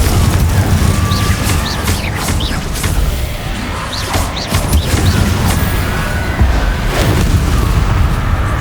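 Repeated blasts of the fire-based Confringo explosion spell being cast in the Hogwarts Legacy video game, with booming impacts and crackling bursts layered over dense, continuous battle noise.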